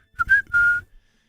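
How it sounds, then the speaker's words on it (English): A person whistles two short, clear tones, the second held longer, close and alone in quiet surroundings. "I whistle"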